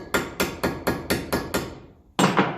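Steel hammer strikes a centre punch against a split pin on a 1954 Ferguson 20 diesel tractor, seven sharp evenly spaced metallic blows, a short pause, then one more hit, close and loud with ringing decay.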